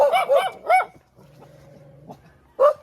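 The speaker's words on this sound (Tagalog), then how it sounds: "Ito mga aso" Several sharp dog barks in quick bursts, then a lower whining, whimpering tone, followed by one more loud bark close by.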